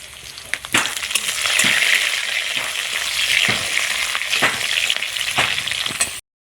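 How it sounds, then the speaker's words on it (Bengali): Garlic, ginger and slit green chilies sizzle steadily in hot oil, a loud continuous crackling frying sound with a few sharper pops and stirring clicks throughout, no talking. "তেলের উপর দিয়ে দিলাম রসুন দিয়ে দিলাম ছেটানো আদা দিয়ে দিলাম কয়েকটা চিরা কাঁচা লঙ্কা"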